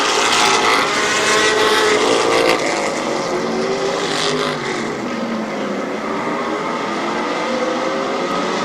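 Race cars lapping at Barberton Raceway Park, a loud, dense engine roar that holds steady and eases a little midway, with no talk.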